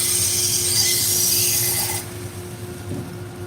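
A workshop dust collection system runs during knife sharpening, a loud airy rush over a low hum that drops to a quieter steady drone after about two seconds.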